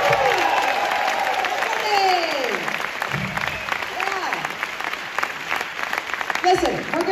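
An alumni centennial reunion show audience breaks into applause and cheering, sustained clapping with whoops and voices mixed in, fairly close and steady throughout.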